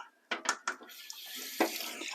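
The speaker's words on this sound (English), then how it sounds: "I'm just going to wash these with cold water." A kitchen tap runs cold water over raw chicken drumsticks, a steady hiss broken by a few splashy bursts and spatters as the pieces are rinsed, close and fairly quiet.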